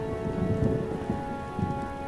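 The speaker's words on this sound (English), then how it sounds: "All of the AI knows that it's raining, and they all try and get out of the rain." Steady rain falling in The Witcher Enhanced Edition, a dense continuous patter and hiss, loud and close, with a low rumbling undertone and no voices.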